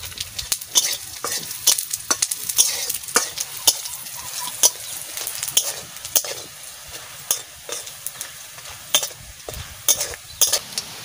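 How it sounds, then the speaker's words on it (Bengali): Coriander seeds, cumin and dried red chillies fry together in hot oil, with a continuous soft sizzle broken by frequent sharp scrapes and clicks of a spoon stirring the spices in the pan, close and fairly loud, no voices. "এই যে হচ্ছে ধইনা, জিরা আর শুকনো লঙ্কা আমি একসাথে ভেজে নেব।"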